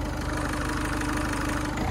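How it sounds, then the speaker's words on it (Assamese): Repaired Ford car engine, a Figo or EcoSport, idling steadily with an even, low mechanical thrum and regular pulsing, close and continuous with no voices. "গাড়ীখন মানে কণ্ডিশ্যন কেনেকুৱা আছে ইঞ্জিনৰ চাউণ্ডটো শুনিব সেইটো আগৰ নিচিনা নৰ্মেল হৈ গ'ল"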